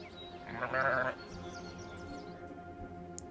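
One brief, faint bleat of a sheep or goat sounds among livestock, set against quiet background noise.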